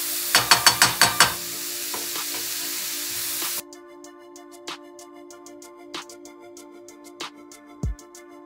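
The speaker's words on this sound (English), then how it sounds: "you just want to saute it a little bit" Filling sautéing in a pan for Belizean panades starts with a quick run of loud stirring scrapes over a sizzling hiss, then settles into quieter sporadic clicks and faint frying.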